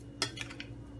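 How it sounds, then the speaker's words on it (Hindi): A few light metallic clinks and scrapes of a spoon mixing crushed garlic and olive oil in a bowl for baked potatoes, close and quiet, spaced over a second with no talking. "अब इसको सबको मिक्स करेंगे"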